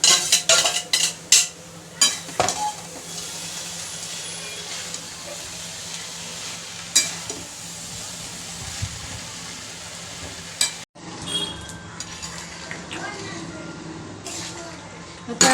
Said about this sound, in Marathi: आपण डाळ आणि गूळ मिक्स करून थोड्या वेळेला शिजवून घेऊया